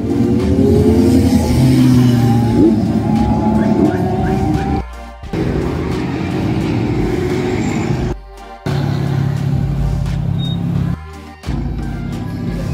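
Motorcycle engines rev and roar continuously at close range at a car meet, with loud revving bursts and a few brief dropouts, amid crowd noise.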